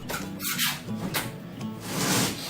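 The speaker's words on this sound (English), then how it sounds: "So you'll just dig in there with your trowel." A trowel scrapes and scoops thinset tile mortar from a bucket, giving several short, close rasping and squeaking strokes in an irregular rhythm, with no talk.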